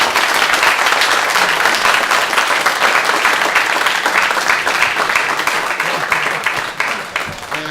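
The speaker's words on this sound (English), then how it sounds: "Let's give our panelists a round of applause for their talk." An audience applauds panelists after their talk at a commercial program career panel, close, crisp clapping that stays full and slowly thins out near the end.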